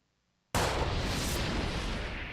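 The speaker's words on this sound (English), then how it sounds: "Malix summoned his gun to his hand and shot multiple times at Eris" Rapid, continuous gunfire from the Seduce Me video game, a loud sustained volley of shots that begins abruptly after a moment of silence and keeps going to the end.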